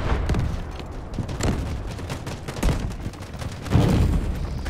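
Gunfire in the Delta Force video game, a string of distant shots and booming bursts at uneven intervals over a steady battlefield rumble, with no talk.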